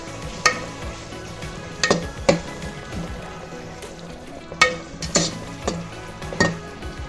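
Coriander powder and biryani powder fry in oil for mushroom biryani while a spoon stirs them, sharp knocks against the pan landing at irregular intervals over a low frying hiss.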